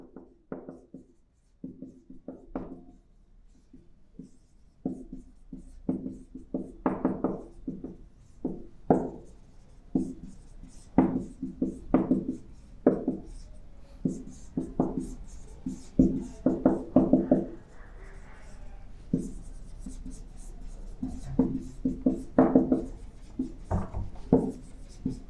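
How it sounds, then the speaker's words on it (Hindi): Pen or marker writing a trigonometry formula by hand, a steady run of close scratchy strokes and taps for the whole stretch, with no talking. "तो एक बार देखो सारा फॉर्मूला यहाँ फिर से लिख देते हैं।"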